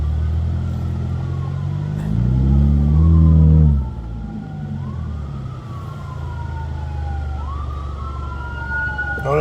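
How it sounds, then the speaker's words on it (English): An ambulance siren passes along a Philadelphia city street, its wail rising and falling after a heavy surge of nearby traffic rumble, with steady street noise underneath and no one speaking. "Oh, I got an ambulance going by,"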